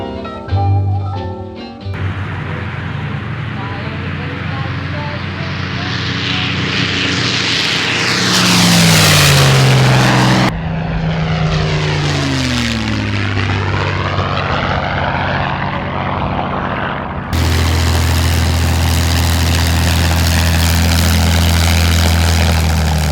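A loud engine of a 1943 propeller fighter plane roars throughout, its pitch sweeping up and down as the plane passes close, with sudden cuts between passes.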